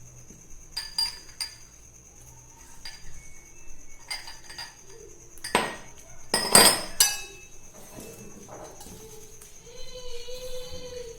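Ingredients for sattu paratha being mixed in a bowl after pounding, with scattered clinks and clatters of a metal utensil against the dish, a few louder knocks and scrapes, no talking.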